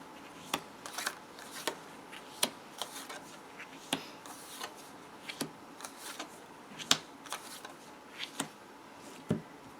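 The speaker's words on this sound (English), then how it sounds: "first I'm going to deal out the cards" Tarot cards are dealt one by one onto a surface, giving sharp, irregular snaps and slaps spaced about half a second to a second apart, close and alone without speech.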